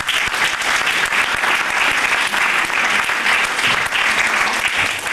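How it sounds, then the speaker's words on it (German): Audience at a literary event in Braunschweig applauding: loud, steady, dense clapping filling the room from start to finish, with no gaps. "vielen Dank für den Applaus"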